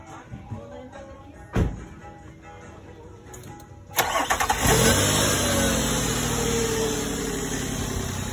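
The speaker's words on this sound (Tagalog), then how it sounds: "Mr. Roman, can you start the engine?" A car engine is started after a repair: a quiet stretch with a sharp knock, then the starter catches and the engine fires up loudly and settles into a steady idle.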